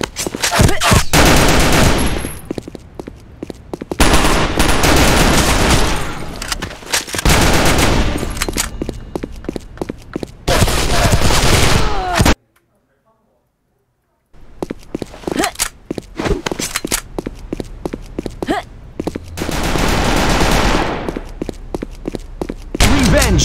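Gunfire in the online shooter Sudden Attack on a school map: loud, close bursts of rapid automatic fire with footsteps between them, broken by a brief full silence midway before the shooting resumes.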